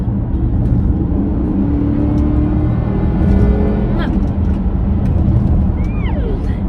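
A Porsche Cayenne GTS with a 400-horsepower petrol V8 is driven along. A steady, loud, low engine and road drone fills the cabin, with a few faint higher tones near the end.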